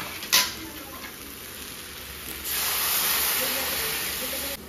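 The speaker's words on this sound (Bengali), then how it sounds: "আমি এবার জল দিয়ে দেবো।" Water poured into a frying ghugni of peas, potato and spices, giving a sharp burst then a steady loud hiss of steam and sizzle that swells midway and holds until the end.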